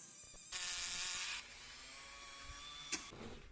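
Rotary tool with a flat sanding disc grinding cast aluminum cooling fins, a loud steady high-pitched whine for about a second, then quieter spinning with a brief sharp burst of contact near the end.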